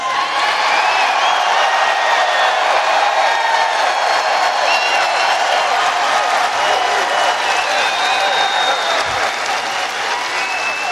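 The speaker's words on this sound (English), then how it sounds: "it's such a great crowd" A packed arena crowd at a Donald Trump rally in Cedar Rapids, Iowa, applauds and cheers in a loud, continuous roar of clapping that holds steady throughout.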